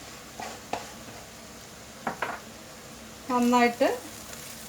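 Coriander and chili powder being stirred into a vegetable sabzi in a pan, soft scraping strokes and a quiet sizzle in a few short bursts, with someone speaking in between.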